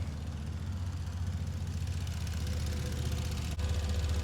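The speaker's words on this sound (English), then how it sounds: "this is the sound of the intake" A catless, straight-piped Ford Taurus Limited idles steadily up close, its air intake giving a low throbbing hum with an airy whoosh, pulsing evenly without any talking.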